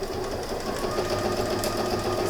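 A Lanmax sewing machine stitches a fabric necessaire continuously at close range, a fast steady mechanical whir with rhythmic needle clatter and no talk.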